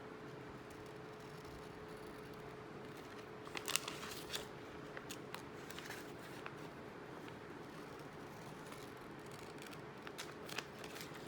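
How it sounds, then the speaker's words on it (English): Scissors cutting paper along a zig zag line, heard as faint, close crisp snips and paper rustles scattered over a quiet room hiss. "making sure that my scissor blades are lining up on the line"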